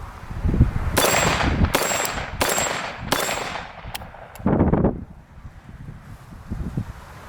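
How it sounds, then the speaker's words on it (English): Close, loud bursts of fire from an AK74 rifle, four rapid strings of shots followed by two single cracks and a short final burst, with wind noise between volleys outdoors. "So I'm going to do a little shooting on and off, different types of shooting"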